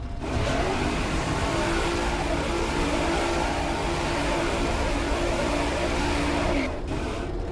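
An epic mount in the Neverwinter game roars through a wheelie or burnout, giving a loud, sustained engine-like revving roar that holds for several seconds before cutting off near the end.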